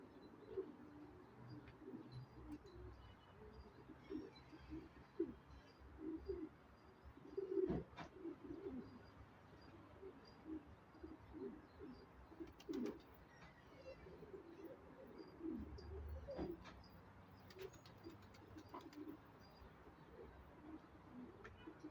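Soft, low cooing from pigeons repeats on and off at a distance, faint against a quiet background.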